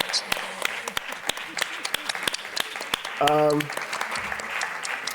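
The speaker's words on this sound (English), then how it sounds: "applause to you guys" An audience at a panel on cultural and creative industries in Africa claps for the panelists: scattered, fairly quiet individual claps spread across the moment, with a brief voice rising partway through.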